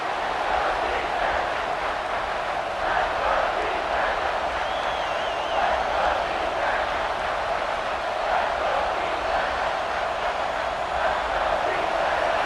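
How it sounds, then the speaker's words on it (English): A stadium crowd roaring in the College Football 26 video game during an Alabama vs Oklahoma playoff matchup near the goal line, a steady, loud wall of cheering that runs throughout. "the crowd really making some noise now"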